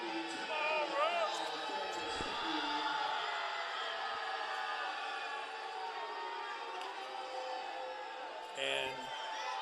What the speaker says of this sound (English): Crowd is booing about something.